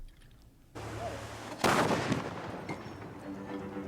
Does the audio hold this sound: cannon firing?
yes